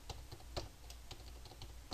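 Fingers tapping keys on a wireless computer keyboard, a quick run of light, close clicks in an uneven rhythm with no voices.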